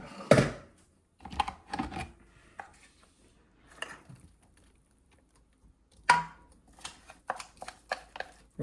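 Knife mincing apples on a cutting board for apple compote: bursts of quick, clattering chops in two separate runs, separated by quieter gaps with occasional single taps, close and fairly crisp.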